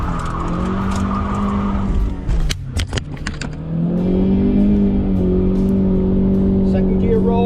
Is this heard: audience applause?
no